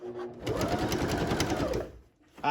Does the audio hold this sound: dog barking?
no